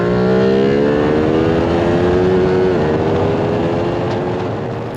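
Onboard a 2022 Ducati Streetfighter V2 on a race track, a loud, steady engine roar with rising and falling harmonic pitch as the bike accelerates and shifts, wind rush underneath, no talking.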